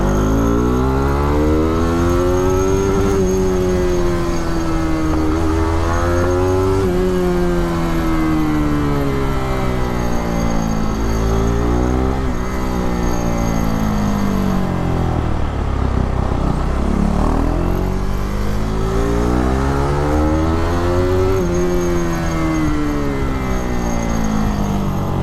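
A KTM RC 390 motorcycle fitted with a Powertronic and Fuel X runs up to about 12K RPM, its engine rising and falling through repeated loud, close revs and gear changes, with no talking.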